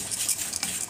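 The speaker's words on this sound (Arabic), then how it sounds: "نقلب بقى الشعريه كده" Vermicelli frying in ghee and oil, stirred with a spoon in a pan, a soft ongoing sizzle broken by a few light scraping clinks of utensil against metal, close and fairly quiet.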